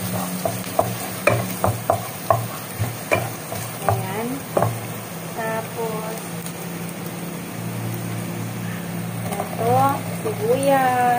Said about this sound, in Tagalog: Ayan, gisa-gisa. Ginigisa muna.